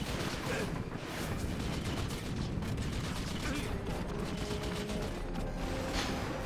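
Dense, steady battle noise of machine gun fire in the real-time strategy game Red Alert 3, a continuous stream of rapid shots blended with other gunfire and explosions, loud and unbroken throughout.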